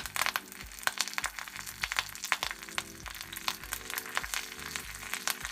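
Cumin seeds, black pepper, dried red chillies and curry leaves crackling in hot oil for mutton keema, a dense close sizzle with sharp popping bursts scattered throughout.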